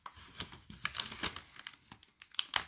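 Paper for a scrapbook moodboard piece is crumpled by hand to distress it, giving a run of close, dry crinkling bursts and a few sharper crackles, alone with no talk.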